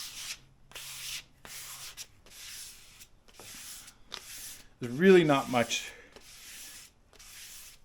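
Sandpaper rubbed over a diamond willow walking stick in repeated short strokes, a dry rhythmic scratching close to the microphone, with someone talking between and over the strokes.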